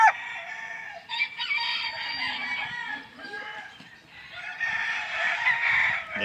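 Non-bearded gold Bantam chickens in a brood pen cluck and crow close by, a dense run of calls repeating across the whole stretch with no talk over them.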